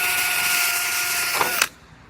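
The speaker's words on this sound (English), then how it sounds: "I am going to drill 2 holes," Power drill boring an alignment hole through a steel door skin during a door skin replacement, a steady high whirring buzz for about a second and a half that ends abruptly as the bit breaks through.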